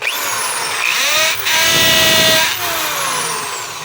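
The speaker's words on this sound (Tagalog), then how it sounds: "Testing natin yung hammer kung meron." A DeWalt D21710 half-inch hammer drill running in hammer mode, whining up in pitch then holding a loud, close, steady buzzing hammer rattle before spinning down, with no voices.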